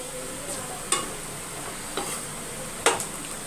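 Tamarind rice is stirred together with tamarind rice powder in a pan, making a low continuous crackle with three distinct scraping knocks of the spoon spaced about a second apart.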